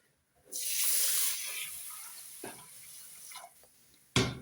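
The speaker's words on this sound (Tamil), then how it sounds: "முதல் அரிசியை கழுவி எடுப்போம்" Rice for sweet pongal is washed in water in a kitchen, with a brief burst of pouring water followed by softer sloshing, swishing and dripping, then a sudden splash near the end.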